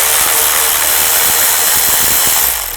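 A hand ratchet with a 10mm socket turns a nut off a bracket holding a wiring harness on a 2000-2006 Chevy Tahoe. The fast, close, continuous clicking runs for nearly three seconds, then fades.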